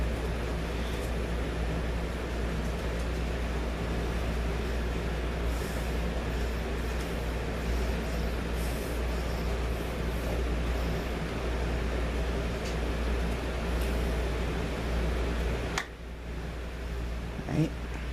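A 1981 Casablanca Zephyr ceiling fan in pewter running at high speed gives a steady, broad whooshing hum with a low rumble, nearly unchanged for most of the clip before a brief dip near the end.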